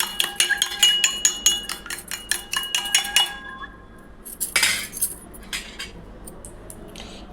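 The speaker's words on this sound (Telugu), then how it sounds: "ఈ 2 ఎగ్స్ని మనం బీట్ కొట్టుకోవాలండి" Two eggs are beaten in a cup with a utensil, making a fast run of close, bright clinks and taps against the side. The beating pauses briefly, then resumes in scattered strokes, with no talking.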